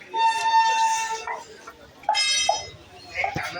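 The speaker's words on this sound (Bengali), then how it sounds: "এটা কাশেম বাজার স্টেশন ছেড়ে আমাদের ট্রেনটা যাবে।" A Lalgola to Sealdah local passenger train pulls out of Kasimbazar station, sounding loud, harmonic horn blasts: one long tone, then shorter bursts, over a low running rumble.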